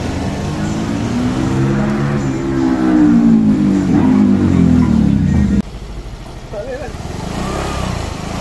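A Yamaha Gravis scooter engine with 227k on the odometer idles and revs up close, rising and falling in pitch, with people talking nearby over the running motor.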